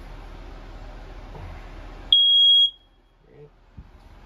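A smoke detector in a 2022 RPOD 192 travel trailer gives one loud, sharp electronic beep lasting about half a second, up close. A low hum sits in the background before it, and some faint shuffling follows.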